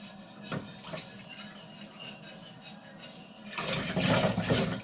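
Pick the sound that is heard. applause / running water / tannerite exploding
running water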